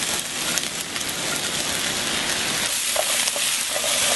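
Potato, onion and zucchini sizzle steadily in a pan, a constant crackling hiss with a few brief scrapes or stirs near the end and no voices.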